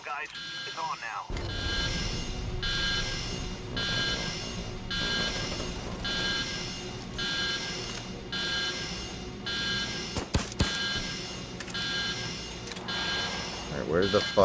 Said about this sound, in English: That's the alarm, guys. It's on now.